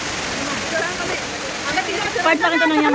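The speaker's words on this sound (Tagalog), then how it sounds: "Guys, nasa mini waterfalls tayo." A small waterfall at Yangmingshan gives a continuous rushing splash under a person talking nearby, the water steady and fairly loud throughout.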